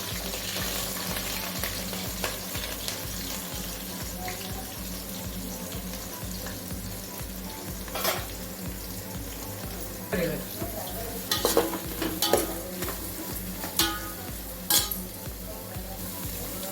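Vegetables with green chillies sizzling and frying in hot oil in a home kitchen, with steady close stirring and occasional sharp clinks of a spoon against the pan.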